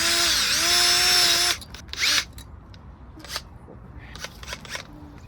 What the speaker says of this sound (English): just drill a hole and then plop them in the hole